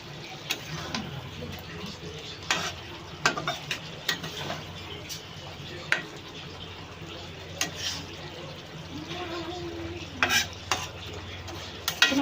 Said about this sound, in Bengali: দেখুন কেমন ফুটছে টকবক করে।